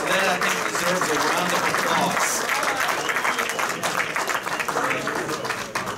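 Applause at a Rotary Club meeting for a member who agreed to take on an editing role, loud sustained crowd clapping filling the room with some voices mixed in.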